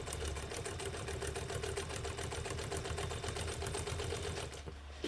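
Westinghouse UHB sewing machine stitching through eight layers of flannel, a rapid steady mechanical chatter running continuously at close range before it abruptly stops near the end.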